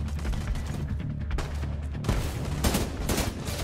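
A minigun in The Division 2 fires a relentless, loud stream of rounds, with heavy bursts that swell in the final second and a half.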